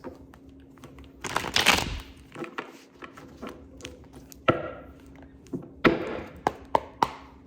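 Tarot cards shuffled and tapped close by: a rustling burst, then scattered soft taps and clicks, with no one speaking.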